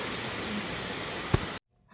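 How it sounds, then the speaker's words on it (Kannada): Light, even evening rain patters steadily for a moment, with a brief thump near the end before the sound cuts to silence. "ಮಳೆ ಬರೋಕತ್ತೈತಿ ಸಂಜೆ ಟೈಮ್"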